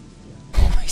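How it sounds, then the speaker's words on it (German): Heavy rain and thunder in the video game Gothic 2 break in halfway through, a sudden loud wash of rain with a deep rumbling thunder roll over quieter background hiss. "jetzt ist gerade krasser Regen"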